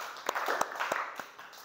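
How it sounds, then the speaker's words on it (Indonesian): Scattered hand claps from a small group of students in a classroom, a few sharp louder claps standing out over a thin, uneven patter lasting under two seconds. "tepuk tangan untuk kelompok ayam"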